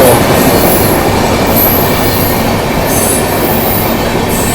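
Purva Express train overtaking on a parallel track at Prayagraj Junction, a loud continuous roar of rolling wagons with faint wheel squeals and rhythmic clatter, close by and steady, no voices.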